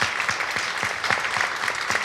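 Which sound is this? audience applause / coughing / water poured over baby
audience applause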